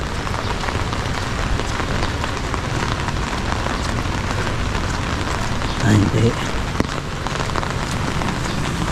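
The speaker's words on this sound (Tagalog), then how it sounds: "Kasi nga umuulan." Steady heavy rain hisses continuously at close range, with a short spoken voice briefly over it.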